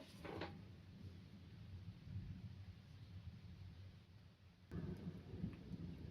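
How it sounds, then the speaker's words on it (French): Thunder from a July summer thunderstorm rumbles low and distant, a faint rolling background with a sharper crack partway through followed by renewed rumbling. "On a les premiers orages du mois de juillet."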